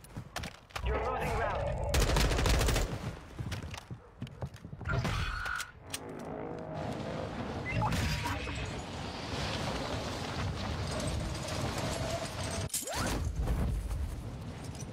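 Double pistols firing in a video game, dense rapid bursts of gunshots with mechanical clatter, loud and continuous, with voices talking over parts of it.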